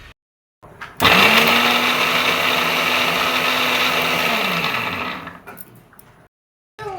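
An electric kitchen mixer grinder blends garlic, ginger, onion, cumin, coriander and cinnamon into paste. After a few clicks its motor whirs loudly and steadily for about four seconds, then winds down, followed by faint handling clicks.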